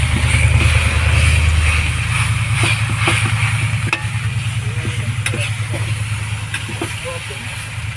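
Pork tocino sizzles steadily in a hot pan, a continuous frying hiss with occasional stirring clicks and a low rumble underneath, while people talk.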